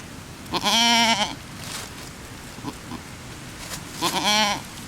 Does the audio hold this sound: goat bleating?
yes